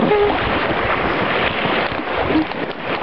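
A boat working down the rocky Hron river, with steady rushing water and wind buffeting the microphone throughout, close and loud with no clear talk.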